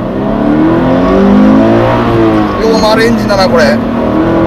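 A Subaru BRZ GT engine pulls hard and revs up steadily, a loud continuous roar heard from inside the cabin while people talk over it.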